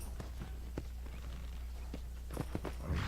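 Horse hooves clip-clop in an irregular walking rhythm in the video game Red Dead Redemption, with a low steady hum beneath them.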